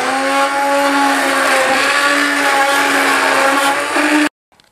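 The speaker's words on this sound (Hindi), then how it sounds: "अब हम इसको शुगर डिसॉल्व होने तक ब्लेंड करेंगे।" A kitchen blender whirs steadily as it mixes milk and sugar into a bread and butter pudding base, a loud, even motor drone that runs unbroken and then cuts off abruptly near the end.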